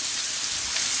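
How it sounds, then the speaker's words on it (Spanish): Chopped onion and carrot sofrito sizzles gently in a pan, a steady soft hiss of frying with no other sounds. "Echamos ya la zanahoria y que vaya sofriendo lentamente."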